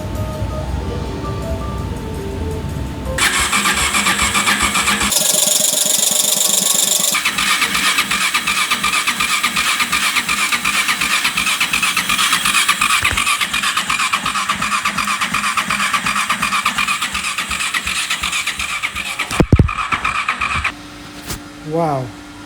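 A Honda VFR800fi Generation 5 motorcycle engine cranks, catches and keeps running with a loud, even idle and pulsing firing, then stutters and stops near the end, with people speaking over it.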